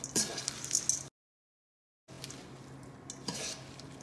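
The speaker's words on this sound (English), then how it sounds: "And then we'll mix it all together." Mixed vegetables tossed together with dressing in a bowl, giving brief close clatters and stirring scrapes with a short gap of silence between them.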